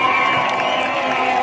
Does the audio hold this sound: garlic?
no